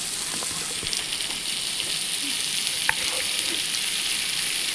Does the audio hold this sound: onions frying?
yes